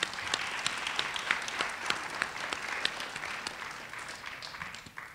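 An audience at a college art exhibit and music event bursts into steady applause, dense overlapping claps filling the room at even strength with a few louder individual claps standing out, slightly thinning toward the end.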